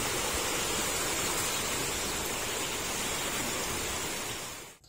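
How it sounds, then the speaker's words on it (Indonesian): Floodwater from an overflowing river between villages in Hulu Sungai Tengah rushes past, carrying debris, logs and trees, in a steady loud roar that holds without a break before cutting off. "Derasnya air yang membawa sampah, potongan kayu, dan pohon mengakibatkan 3 buah jembatan penghubung antar desa putus total."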